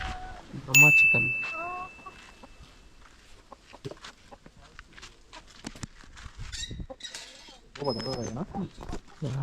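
Chickens clucking at a park, with short bursts of clucks and squawks between quieter stretches, heard close by along with scattered handling noises.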